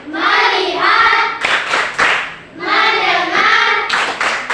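Classroom children clap the tepuk fokus rhythm together, short bursts of unison claps alternating with brief chanted voices in a repeating pattern, close and loud.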